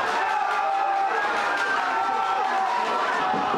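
A football crowd roars steadily after FC Töging scores the opening goal against TSV Ampfing, a dense, sustained wash of cheering and shouting from the stands, loud and unbroken throughout.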